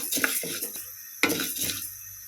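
Sago pearls are dry-roasted in a pan, with a couple of bursts of rattling and scraping as a spoon stirs them against the metal, then quieter pauses in between.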